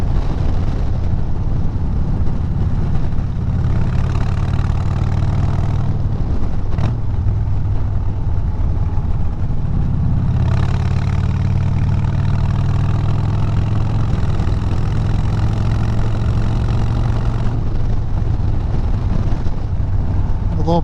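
A Harley-Davidson Dyna motorcycle engine rumbles steadily and loudly while riding, its low throb mixed with constant rushing wind noise throughout.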